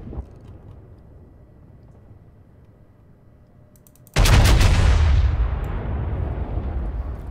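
The main guns of the battleship North Carolina fire in World of Warships, a sudden loud deep boom after quiet ambient rumble, followed by a long fading roar.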